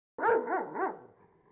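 An angry dog in a video game lets out three quick, loud barks in a row, each with a rising-falling growly tone, fading into a quiet tail afterward.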